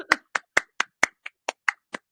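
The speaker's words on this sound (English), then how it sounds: "Insert more clapping." Ten sharp hand claps land one after another at a slightly uneven, steady pace, each crisp and close in an otherwise quiet room.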